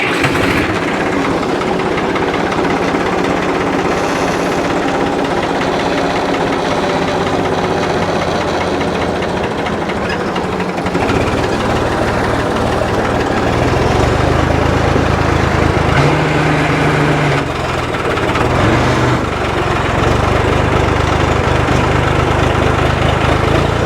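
A John Deere 820 tractor's engine runs steadily during plowing, a loud, continuous low rumble with a slight shift in pitch partway through and no talk.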